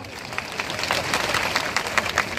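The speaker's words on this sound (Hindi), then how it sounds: "पीछे की मेरी लाडली बहना ताली बजा रही है" Women in a crowd clapping at an outdoor political rally, a sustained patter of scattered applause of moderate loudness with crowd murmur beneath.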